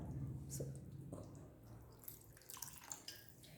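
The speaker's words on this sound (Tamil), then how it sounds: "நம்மளுக்கு தேவையான தண்ணி இதில் கொஞ்சம் ஆட் பண்ணிக்கலாம்" Water poured into chicken gravy in a cooking pot, quiet splashing and dripping that trails off into a few faint clinks and trickles, close by with no talk.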